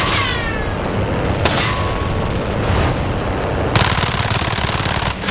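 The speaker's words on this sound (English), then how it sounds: "It's just a few bullets." Call of Duty gunfire, a burst of rapid metallic shots and clangs with ringing pings, loud and close, building into a fast rattling volley near the end over constant game noise.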